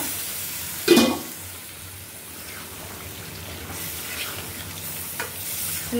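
Sautéed eggplant being stirred in a pan during a Bengali home-cooking session, a steady soft sizzle under scraping strokes, with one sharper utensil knock near the start and no talking.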